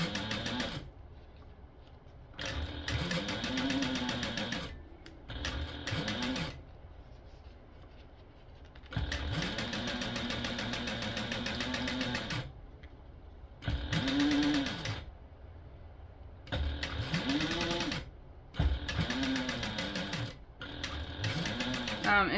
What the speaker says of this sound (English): we'll go ahead now and top stitch through this front gusset top using an 1/8 inch seam allowance